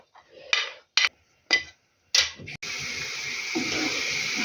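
Onion dropped into about 70 ml of hot oil in a frying pan while making stuffed peppers: a few clinks of utensils against the pan, then a steady loud sizzle that continues to the end.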